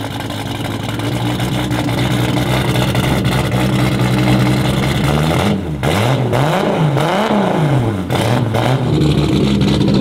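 A car engine revs repeatedly, its deep exhaust rumbling and booming in rising and falling surges, loud and close, after a steady droning idle.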